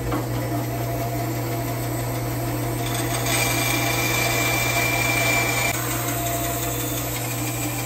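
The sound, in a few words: bandsaw cutting curly maple loading block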